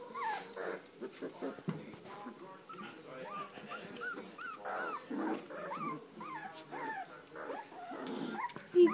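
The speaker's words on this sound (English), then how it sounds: "You're growling at me." A three-week-old Standard Poodle puppy makes soft growls and whimpering yips close by, in short irregular bursts, while a person talks over it.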